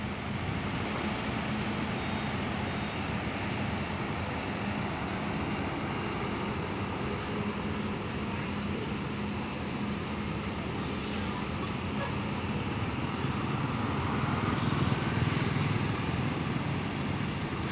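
Buses idling and manoeuvring at Purabaya Bungurasih bus terminal, a steady broadband engine rumble and traffic wash that swells slightly toward the end, with no clear speech.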